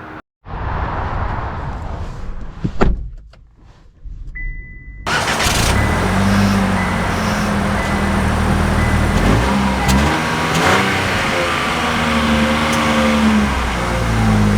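A 2025 Chevy Trax engine starts after a few clicks, then settles into a steady drive with a smooth hum and road noise building as it pulls away.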